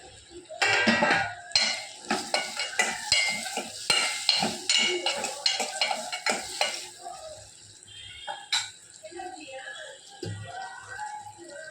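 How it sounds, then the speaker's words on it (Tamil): Brinjal and tomato sautéing in oil in a pan, with brisk repeated scraping strokes of a spatula over a crackling sizzle, loud and close, easing into quieter sizzling toward the end. "எண்ணெய் பிரிஞ்சு நல்ல கத்திரிக்காய் வதங்கி வருது"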